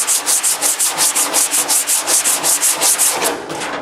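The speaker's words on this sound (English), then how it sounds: "If I took a piece of sandpaper" Sandpaper rubbed over a dent in a car trunk lid, heard as a steady run of about fourteen quick, even back-and-forth strokes, close and loud with no talking.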